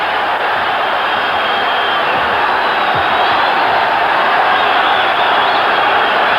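A boxing crowd in Boston at a middleweight fight, on their feet and cheering in a dense, steady roar that holds and swells slightly toward the end.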